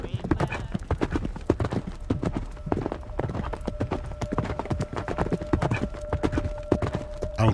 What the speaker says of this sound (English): the heavy, thundering hooves of the horses